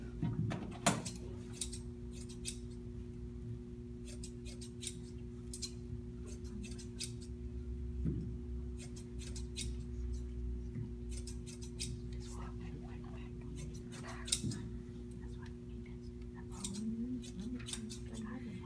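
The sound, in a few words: cutting with scissors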